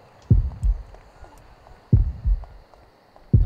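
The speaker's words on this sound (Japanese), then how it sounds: "再度心音が鳴り始める。" A heartbeat pulses in the horror game Horrorfield, deep double thumps repeating at a slow steady rhythm over a low hum, with faint higher game tones between beats.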